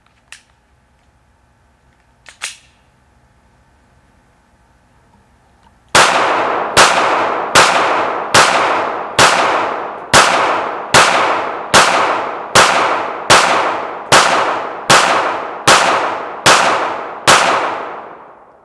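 A Glock 19 Gen4 pistol fires 147 grain Winchester Super X 9mm rounds in a steady string of about fourteen loud, sharp shots at even spacing. Two faint clicks come first, then the shots ring out with no talk.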